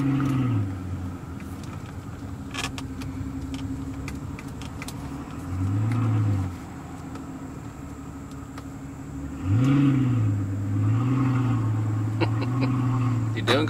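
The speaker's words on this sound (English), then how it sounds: "Put the car in drive again." A Mercedes S65 AMG V12 engine hums steadily at close range, rising in pitch twice as it accelerates, with faint jangling and clicks over the drone.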